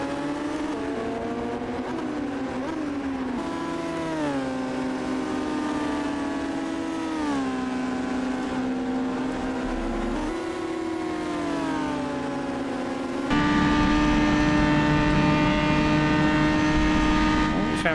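Historic Formula 3 race cars at Symmons Plains whine past with rising and falling engine pitch through gear changes, and a second louder car joins near the end as a commentator talks over the noise.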